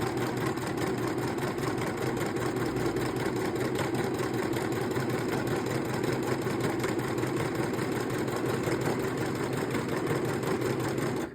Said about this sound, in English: And now you can see the machine is cutting.